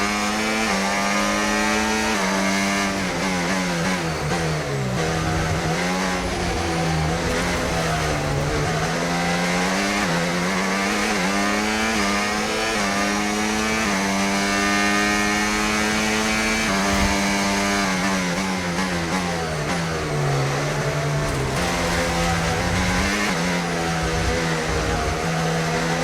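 Racing car engines in the video game Breaking Point 3 drone and rev continuously with rising and falling pitch, loud and steady throughout with no talk.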